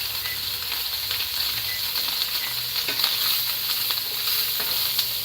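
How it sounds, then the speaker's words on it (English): Bacon and spicy southern sausage fry in a hot pan. The sizzle is steady and dense and lasts the whole time, with small pops and spatters rising above it and no voices. "We're gonna get some bacon going."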